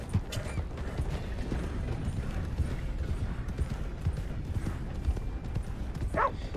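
Horse hooves clip-clopping at a steady riding pace in the video game Red Dead Redemption 2, continuous hoof beats under a voice talking.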